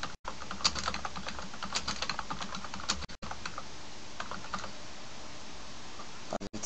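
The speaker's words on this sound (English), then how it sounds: "I'm going to type clarity again." Steady rapid keystrokes on a computer keyboard, close and clear, with a few brief pauses between bursts of typing and no voices.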